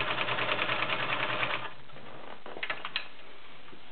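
A White 742 convertible sewing machine runs a zigzag stitch, a fast loud mechanical chatter for about a second and a half that then stops, leaving a few faint clicks and knocks.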